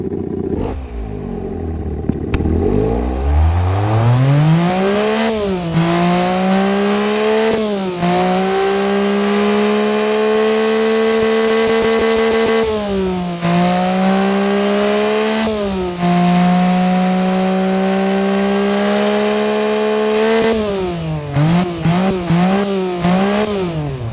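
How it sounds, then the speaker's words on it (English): A loud Honda E07A car engine in the Automation game revs hard again and again, climbing to a high whine, holding, then dropping between bursts, with quick throttle blips near the end. "Now let's fire it up and let me show you how it will rev and how it will sound."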